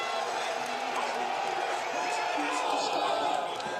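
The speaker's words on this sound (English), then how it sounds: "They can hear the crowd." The crowd at the men's elite race of the 2023 UCI Cyclo-cross World Championships roars in a broad, steady wash of cheering heard from a distance, with a commentator talking over it.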